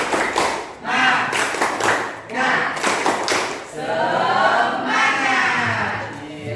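A classroom group claps the rhythmic "tepuk semangat" chant in short, loud bursts, with voices chanting and cheering along between the claps.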